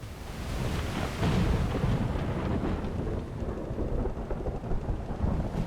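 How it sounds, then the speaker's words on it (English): A thunderstorm in the survival video game Aloft, with heavy rumbling thunder over steady rain and gusting wind, a loud, dense roar that rises and falls without a break. "the eternal storm caught you by surprise, engulfing you in devastating winds"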